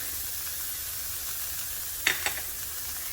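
Corn and diced onion saute in a pan, a soft, steady close sizzle with two quick stirring scrapes near the end, quiet and without talk.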